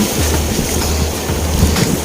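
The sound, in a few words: ocean waves at the beach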